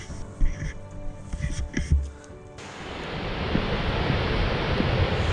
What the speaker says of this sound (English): We've made it to the waterfall. It is loud as shit.